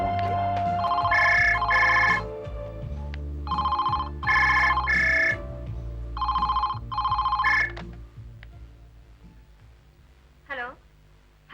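Telephone ringing in a Hindi drama, a loud electronic ring repeating in short bursts with brief pauses, followed by a few faint clicks and a short noise near the end.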